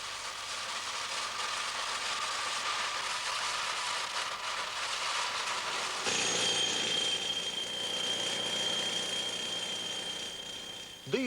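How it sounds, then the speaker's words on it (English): A power saw cuts around a block of quarried stone with a steady, loud, grinding roar that runs unbroken throughout and turns harsher and more whining partway through. "The saw cuts all round the block of stone,"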